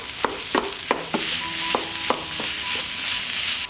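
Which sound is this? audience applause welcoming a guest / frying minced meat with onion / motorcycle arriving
frying minced meat with onion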